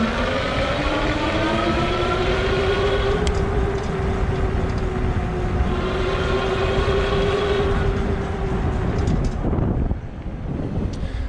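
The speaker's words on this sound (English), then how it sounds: "This is a really loud motor, geared hub motor. It's big and powerful at 750 watts" Loud geared 750 W front hub motor on an AddMotoR MOTAN M-330 e-bike, whining steadily with a rising and falling tonal pitch over wind and road rumble, continuous for about ten seconds before easing off.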